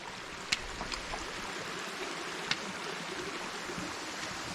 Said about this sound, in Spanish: Esto se llama Cascada del Cerrito Blanco.